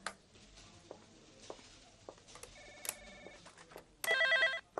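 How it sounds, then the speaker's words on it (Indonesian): A telephone rings in a quiet room with faint handling noises, an electronic ringtone chirping a few brief tones before one louder, longer ring near the end. "Sebentar, ada telepon."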